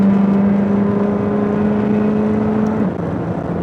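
A McLaren 620R roars down the straight at Circuit of the Americas: a loud, steady high-revving engine drone holds a sustained pitch, then drops slightly near the end as it shifts, with no talking over it.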